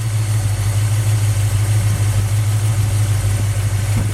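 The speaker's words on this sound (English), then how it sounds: "The RPM of the motor jumped up" A small block Mopar V8 in a Plymouth Duster idles steadily during initial timing adjustment, a constant low throbbing rumble with even mechanical hum, close and alone.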